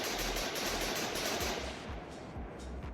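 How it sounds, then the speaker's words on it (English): Tank coaxial and top-mounted machine guns fire in rapid bursts in MCHeli-Overdrive, a dense rattling stream that thins toward the end into a few separate, fainter shots. "Next, we have coaxial and top-mounted machine guns."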